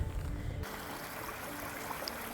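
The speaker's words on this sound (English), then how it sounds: "This is Justice Creek." Justice Creek, a stream on the Appalachian Trail in winter near Gooch Gap, gives a steady broadband rushing flow, with a brief low rumble of handling noise at the start before the water continues evenly.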